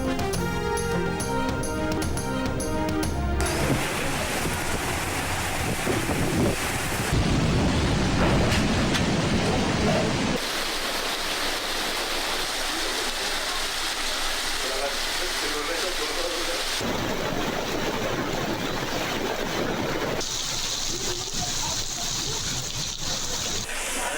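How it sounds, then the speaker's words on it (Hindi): Heavy pouring rain with strong winds roars steadily in Karachi during a storm, a dense wash of noise across several cut-together shots, loud throughout with rumbling underneath. "कराची में तेज हवाओं के साथ धुआंधार मूसलाधार बारिश"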